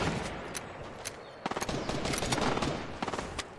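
An AK rifle fires in Fortnite in close, loud, rapid bursts of sharp cracks, several volleys separated by short pauses, with no voices over the shooting.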